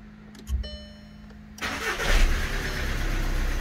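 A Volkswagen Passat, just after a transmission fluid change, cranks briefly and fires up, then settles into a steady close idle rumble, loud and alone with no talk.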